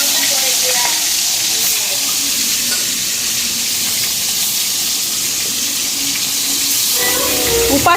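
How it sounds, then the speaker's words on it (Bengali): Fish fry in hot oil in a pan, sizzling and crackling steadily, a bright hiss filling the background, with faint clatter of a utensil near the end. "আজকে মাছগুলি ভাজা হয়ে গেল"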